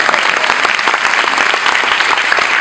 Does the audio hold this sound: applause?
yes